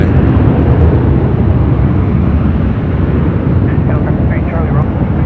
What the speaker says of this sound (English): our next arrival on 24 right is a heavy United Airlines Flight 33 coming in from Tokyo Narita, 787-10 Dreamliner